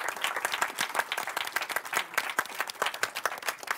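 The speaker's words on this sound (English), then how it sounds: "we need to give them a big round of applause for all the points you've made" Applause from a conference audience at a youth event on the future of Europe in Oulu, a dense, steady patter of many hands clapping throughout, fairly close and continuous with no speech.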